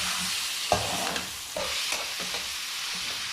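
Okra masala with chopped tomatoes stirred in a frying pan: a constant close sizzle of frying with a few soft scrapes and knocks of the spoon against the pan.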